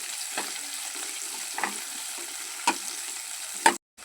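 Onion sautéing in a pan until reddish, giving a soft, steady sizzle close by with a few brief spatula scrapes and knocks, cutting off abruptly at the end.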